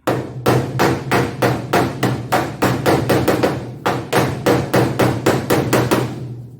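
A hammer taps small dings into an Econoline's sheet metal, a fast, even run of bright metallic strikes, close and loud, with no pauses.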